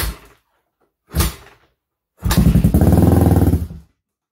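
A 1985 Honda ATC 350X three-wheeler, still on choke, gives two short sharp bursts and then a longer throaty rev with a pulsing beat, close and loud, each cutting off into silence.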